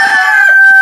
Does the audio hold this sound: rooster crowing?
yes